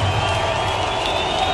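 A football stadium crowd at a Colts game roars steadily for the whole moment, a loud, dense wash of cheering and clapping with no single voice standing out.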